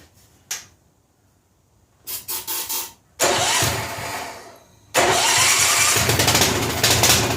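The engine of a 1971 Wards 8 HP lawn tractor cranks in a few short pulses with no points and spark problems, then catches and runs loudly in rough surges, heard up close.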